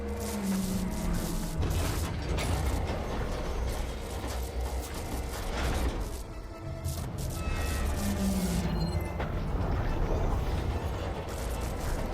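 A jammed dish motor in Horizon Forbidden West grinds and creaks continuously, a dense, loud mechanical rumble with ratcheting scrapes and surges, one brief dip midway.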